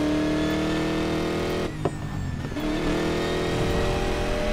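A Ford Mustang's engine in the racing game Need for Speed Payback holds a loud, steady drone, then briefly drops off and comes back as a gear shift, with no talk.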